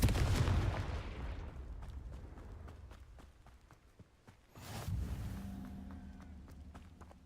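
A Confringo fire spell cast in the Hogwarts Legacy video game bursts loudly at the start, then a second booming blast follows midway, each fading into a rumbling tail, with light ticking steps between them.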